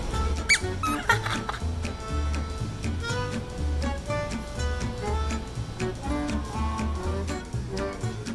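A squeaky pet toy squeezed in a long run of rapid, high, mouse-like squeaks, close and steady throughout. Some faint background sound sits underneath, with only slight traces of voice.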